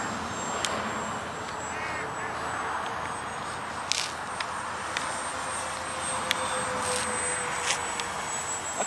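An RC Flightline OV-10 Bronco model plane with upgraded motors takes off, its steady high-pitched motor whine running throughout over broad wind rush, while someone talks.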